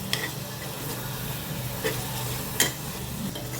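Spices such as turmeric and asafoetida sauté with a steady close sizzle in a pan for carrot and beans biryani, stirred with a few light scraping clinks and no talk.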